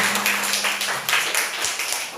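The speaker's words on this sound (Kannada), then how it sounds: "ಅವರಿಗೆ ಬರ್ಲಿ ನಿಮ್ಮೆಲ್ಲರ ಜೋರಾದ ಚಪ್ಪಾಳೆ" An audience claps for a school skit on national unity at an Independence Day event, a steady patter of many hands near and loud, with a low hum and some background voices underneath.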